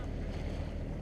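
A boat motors along the coast of Gozo in Malta with no wind for sailing, a steady low engine rumble mixed with water rush and wind buffeting on the microphone.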